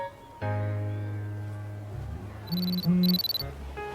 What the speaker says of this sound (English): Your hunter's watch is beeping.